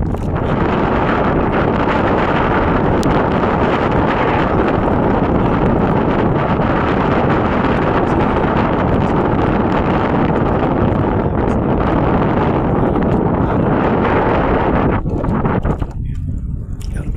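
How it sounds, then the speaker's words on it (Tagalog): Strong wind at sea buffets the microphone from a fishing boat with a loud, constant roar and rustle, easing briefly near the end. "Mahangin na."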